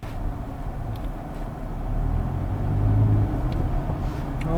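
A car's engine revs harder while reversing uphill, a steady low rumble that swells louder midway and stays strong, with no voices.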